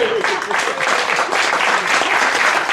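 Audience applause fills a Christmas late night show hall, a loud, dense, steady clapping throughout, with a voice briefly audible at the start.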